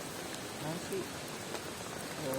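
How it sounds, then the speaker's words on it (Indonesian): Heavy rain falling on a camping tent at night, a dense, steady hiss of drops with no breaks, even and fairly loud throughout the short stretch. "Hujan masih setia turun"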